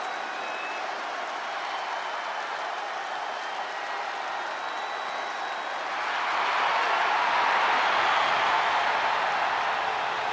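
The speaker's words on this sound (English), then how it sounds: "Listen to this ovation. The WWE Universe loves cheering on the EST." Crowd ovation in the WWE 2K23 wrestling video game for the EST, steady cheering and applause that swells louder toward the end.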